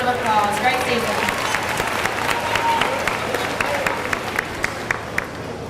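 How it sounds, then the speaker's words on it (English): Audience applause for a high school cross-country team at an athletic banquet: steady, full clapping from a crowd, with voices mixed in, gradually thinning toward the end. "Give them a round of applause."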